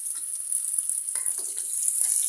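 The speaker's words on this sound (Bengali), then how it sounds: "লাল লাল করে ভেজে নিতে হবে" Chopped garlic and onion frying in oil for a tomato chutney, a constant bright hiss with a few soft stirring scrapes toward the middle, close and without speech.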